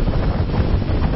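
A motorboat, the Opera 60, runs at speed on a slightly choppy sea, giving a loud, continuous rush of engine, wind and water with no pauses.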